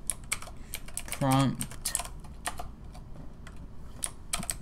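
Quick bursts of keystrokes on a computer keyboard as code is typed in Roblox Studio, clustered clicks with short pauses, close and crisp, while a voice speaks briefly in between.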